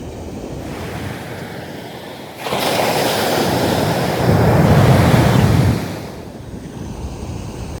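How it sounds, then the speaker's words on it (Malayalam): Rough, agitated sea surf pounds the shore where fishermen swim out to fish, a continuous close roar of breaking waves mixed with wind buffeting, swelling louder through the middle before easing slightly. "കടൽ ഭയങ്കര ഒരു കലിപ്പിലാണുള്ളത്"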